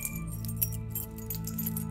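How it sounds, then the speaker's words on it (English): A bunch of keys jangles and clinks continuously up close for a couple of seconds, bright metallic rattling layered over a faint low hum, with no voices. "here is the sound of keys."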